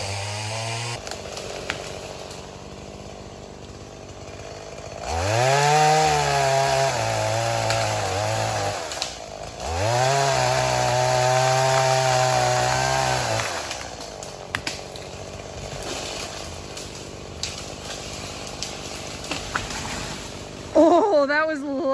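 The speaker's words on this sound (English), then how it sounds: "You can play with the chainsaw all you want." Chainsaw cutting down a big tree: a loud, close engine revving in two long bursts between idling stretches, with people talking around it.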